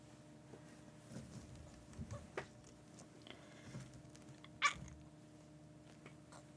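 A house cat gives a single short, sharp meow near the end, faint against a steady low indoor hum with a few soft thumps and rustles around it.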